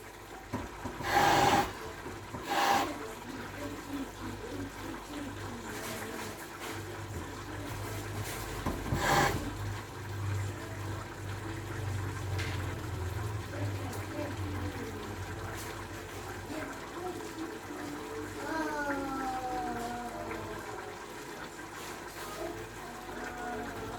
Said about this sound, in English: This is my flour. I'm going to add water to it.